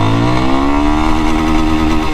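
A Yamaha FZ 25 250cc motorcycle accelerates hard in first gear, its close, loud engine note climbing steadily in pitch as the revs build over a couple of seconds.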